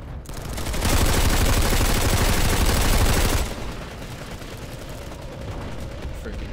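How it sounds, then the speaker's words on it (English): Turrets fire in the online shooter Planetside 2: a dense, loud continuous barrage swells for about two and a half seconds, then drops to a lower rumble of ongoing distant gunfire. "Freaking turrets going off."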